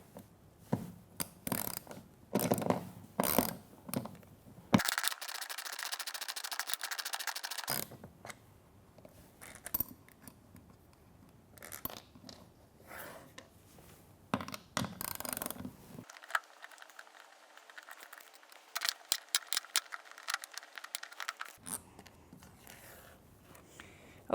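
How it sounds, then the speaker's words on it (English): Socket wrench loosening bolts on the bracket of a Rialto reformer, with bursts of rapid ratchet clicking between pauses, close and clear, broken by brief metallic handling sounds, with no talk. "I'm going to use a socket for the sake of speed, and I'm going to take off this bracket and by loosening these bolts here."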